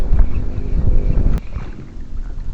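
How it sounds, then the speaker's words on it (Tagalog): Strong wind buffeting outdoors during tenkara fishing, a loud rough low roar with gusting swells and a sharp click partway through. "Malakas na hangin."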